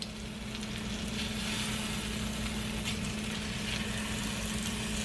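Salmon frying in a pan, a steady, loud, crackling sizzle that holds evenly throughout with a constant low hum beneath it.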